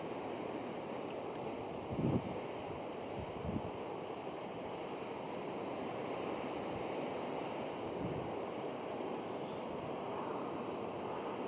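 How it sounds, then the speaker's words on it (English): Ocean waves wash steadily onto rocks, a soft continuous surf with a few faint low thumps, heard alone with light wind. "Get the waves lapping onto the rocks."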